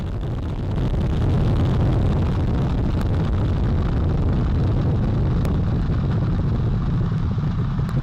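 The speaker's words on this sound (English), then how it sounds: "All 4 RS-25 engines on the core stage and 2 solid rocket boosters now propelling the vehicle at 128 miles per hour." Artemis I lifts off powered by four RS-25 core-stage engines and two solid rocket boosters, producing a loud, steady, deep rumbling roar heard from a distance with no talk.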